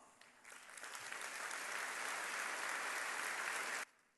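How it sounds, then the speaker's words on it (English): Banquet audience applauding award winners at an evening convention dinner, a dense, steady roar of clapping that swells over the first second, holds loud and even, then cuts off sharply near the end. "please rise for one more moment of recognition and another round of applause"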